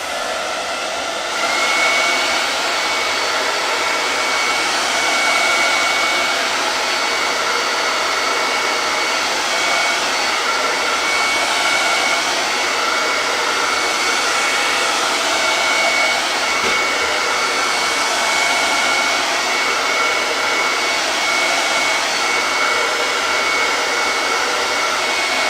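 A hair dryer runs continuously close by, drying paint on a wooden farmhouse porch sign, a loud steady whoosh lasting the whole time with no talking.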